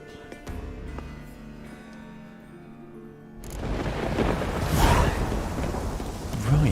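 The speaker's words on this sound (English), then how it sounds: "That looks incredible. All this driving rain." Heavy rain and rolling thunder in The Witcher 3: Wild Hunt, a steady downpour that swells into a loud, rumbling storm with broadband hiss and low booms, no voices.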